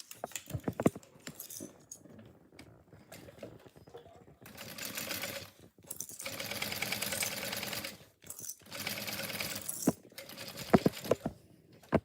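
A sewing machine top stitching a bag runs in several short, close bursts of mechanical whirring, with clicks and small handling knocks in the pauses between runs.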